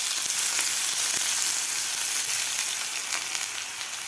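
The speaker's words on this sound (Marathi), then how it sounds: "त्यानंतर घालायचं आपल्याला एक मोठा कांदा मी बारीक कापून घेतलेला तो घालायचा आहे" Finely chopped onion fries in hot oil with cumin and mustard seeds for a drumstick vegetable curry, a steady, loud, close hissing sizzle with faint crackles and no talking.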